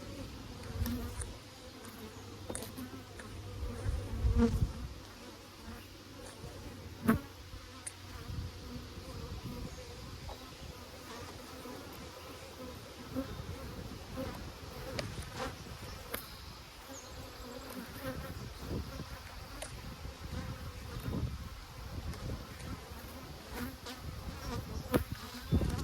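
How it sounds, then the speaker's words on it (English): Honey bees swarm in an opened hive during hive maintenance, a dense, continuous buzzing drone that carries on for the whole span, with scattered handling knocks and rustles close by. "There's a crap ton of bees in here."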